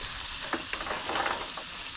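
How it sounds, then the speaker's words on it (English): Red snapper fillet searing in a pan inside a campervan, a steady close sizzle with a few sharper spits and pops over two seconds. "That's a nice sear."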